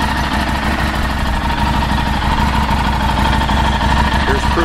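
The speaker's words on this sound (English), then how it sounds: "Engine's running, bike's in neutral" A Harley-Davidson Street 500 motorcycle idles in neutral up close, a steady, loud, rapid low-pitched chugging pulse that runs unbroken, with someone speaking over it near the end.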